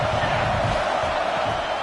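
Stadium crowd at an American football game roaring steadily on a big third down, a dense, loud wash of cheering with no pauses.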